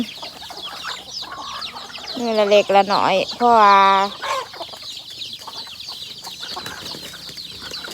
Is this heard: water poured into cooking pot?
no